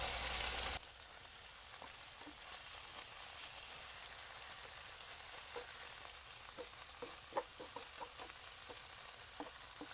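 Ground pork frying in a pan for baked macaroni, a soft steady sizzle with scattered light scraping clicks as it gets stirred, fairly quiet and close.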